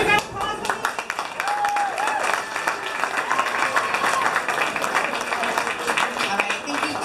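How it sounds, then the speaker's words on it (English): An audience applauds at a Nerd Nite Silicon Valley talk, dense clapping running steadily throughout, mixed with crowd murmur and some voices over it. "Another round of applause."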